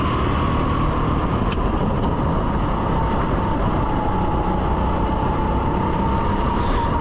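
Rental racing kart engine running steadily on an outdoor track at a New Jersey Motorsports Park league race, a constant loud broadband drone with a sustained mid-pitched whine and no voices.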